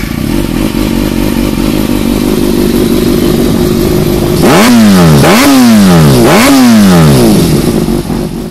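A 600cc superbike engine idles loudly, then revs sharply three times in quick rising-and-falling surges, close and powerful.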